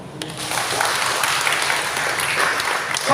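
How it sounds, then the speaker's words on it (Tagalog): A church congregation claps together in sustained, dense applause that stays loud and steady from start to finish, with no voices standing out over it. "Palakpakan nato ang Ginoo."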